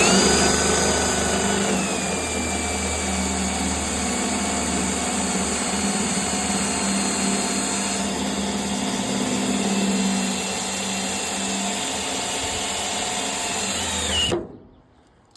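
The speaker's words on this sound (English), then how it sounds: "so I'm gonna get these drilled out" A power drill boring out broken hood pins on a car hood, with a loud continuous high whine held steadily for about fourteen seconds before stopping abruptly.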